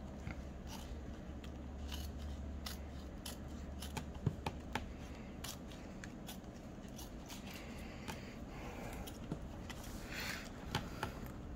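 Scissors snip through paper while shapes are cut out for a swap-and-glue collage, producing a steady run of small crisp clicks and crunches close to the microphone, with no talking.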